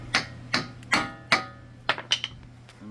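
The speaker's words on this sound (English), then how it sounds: "Now we just gotta give her a couple taps." A Honda Civic Si axle is tapped out with a hammer: four evenly spaced sharp metallic knocks, then three quicker lighter taps, close by over a low steady hum.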